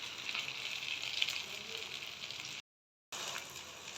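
Rice pakoras deep-frying in hot oil, a steady bright sizzle and fine bubbling, close and moderately quiet, with a short silent gap before the frying resumes.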